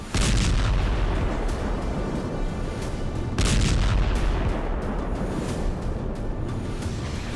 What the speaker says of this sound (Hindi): इजरायली डिफेंस फोर्सेस ने सीरिया पर भीषण मिसाइल अटैक किया।